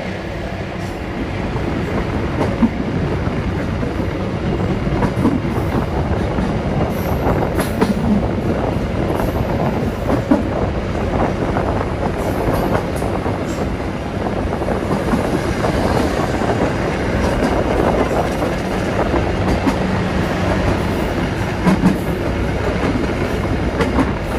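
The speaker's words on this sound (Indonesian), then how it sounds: "kereta api Ambarawa Express yang berarmadakan kereta stainless steel" A stainless steel Ambarawa Express passenger train in Indonesia rolls along steadily, wheels clacking on the rails under a constant rumble and rush, heard from inside a carriage for a long stretch.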